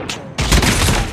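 Rapid bursts of gunfire from Call of Duty Mobile, a sharp shot near the start followed by a dense, loud volley of overlapping blasts and booms.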